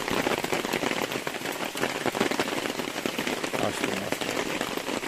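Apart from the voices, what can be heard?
rain falling during carp fishing on the Dniester river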